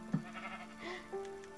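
Sheep bleating in a survival video game, a few faint, drawn-out wavering calls over low background ambience.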